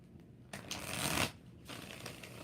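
Tarot cards riffle through a shuffle in one continuous burst of papery fluttering lasting about a second, close and fairly quiet, with faint room noise before and after.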